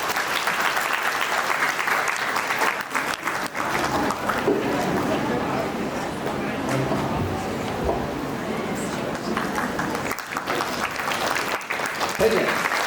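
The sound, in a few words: audience applause at a family gathering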